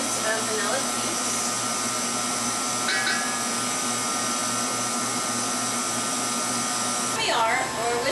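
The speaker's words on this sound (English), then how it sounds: "We're whisking the sugar, the yolks, and the vanilla paste and half a gallon of cream together." An electric mixer steadily whisks sugar, egg yolks, vanilla paste and cream, a loud continuous motor whir with a brief higher squeal near the end.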